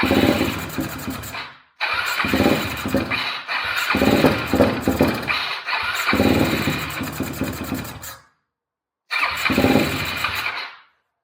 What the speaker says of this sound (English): We'll give it a fire.